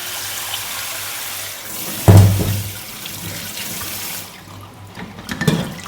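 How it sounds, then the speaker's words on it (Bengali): Tea dishes being scrubbed and rinsed under a running kitchen tap, a steady trickle of water punctuated by a sudden splashing gush and clinks of utensils, close by with no talk. "এখানে কিছু চায়ের বাসন পড়েছিল সকালে, ভাবলাম সেগুলো আগে মেজে নিই"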